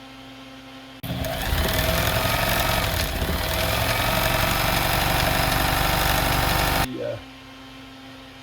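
A Sew Mor 740 sewing machine runs steadily for about six seconds, a close, even mechanical whir with a fast rhythmic clatter that starts abruptly and stops cleanly, with quiet room tone on either side.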